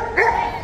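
A dog walking with a group of dogs on a city sidewalk in central Berlin gives a single short, sharp bark, close and loud against street ambience.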